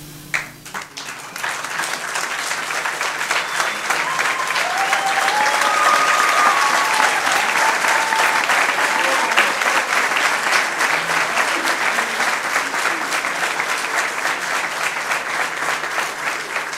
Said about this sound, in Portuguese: pedir mais uma salva de palmas para eles